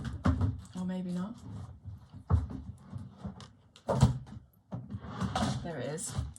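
A desk drawer of art supplies slides open and shut with a few wooden thunks and rattles while someone hunts for a colour chart, a voice talking over and between the knocks.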